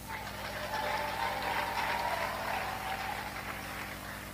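A church congregation applauding after a sermon, a steady wash of many hands clapping at moderate distance for several seconds without a break.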